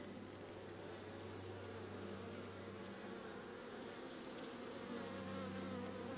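Honey bees hum in a dense, steady buzz inside a hive during a queen introduction, close and continuous with no pauses.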